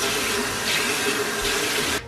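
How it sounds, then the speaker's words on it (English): Running tap water pours steadily into a sink while cleaning items are rinsed, a continuous broadband rush close by that stops abruptly at the end. "Just rinse everything out."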